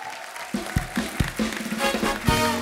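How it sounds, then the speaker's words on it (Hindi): A studio audience on The Kapil Sharma Show claps and cheers, with thumping beats pulsing steadily underneath the applause at a moderate level. "जोरदार तालियां हो जाए हमारे सारे फनकारों के लिए।"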